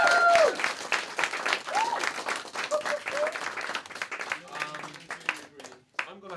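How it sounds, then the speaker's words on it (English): A crowd claps and cheers at the grand finale of a live show, loud applause that gradually thins out as voices carry over it. "can we have a round of applause again for the three who are in the cage?"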